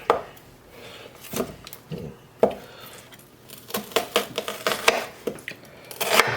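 A kitchen knife cuts through an onion core on a cutting board, irregular crisp chops and thuds against the board, some in quick clusters, moderately close.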